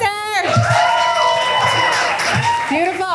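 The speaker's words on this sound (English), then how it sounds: "One more round of applause for Keter." Audience at a school arts showcase applauds and cheers, a continuous wash of clapping with whoops and excited voices mixed in, fairly loud and close throughout.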